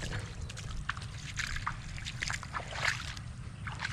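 Irrigation water trickles and gurgles into a crop field, a steady close liquid flow with small splashes and bubbling over a low rumble, no speech.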